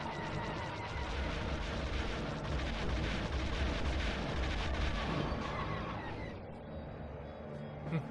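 Blaster fire in the Star Wars Rogue Squadron game against TIE fighters, a dense continuous barrage of rumbling shots and booms under engine roar, easing off toward the end.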